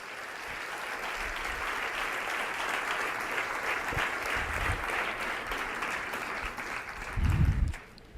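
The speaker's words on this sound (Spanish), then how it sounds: "Puede darle un aplauso al Señor." A church congregation applauds steadily during a sermon, a dense wash of clapping that holds for several seconds before tapering off at the end.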